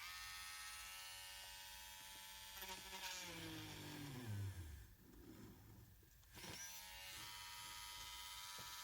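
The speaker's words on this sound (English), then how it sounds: "So there is a hole that I'm going to drill now." A cordless drill whirs at a high pitch, then bogs down and slows as it bites into cured epoxy resin, then spins back up to a steady buzz.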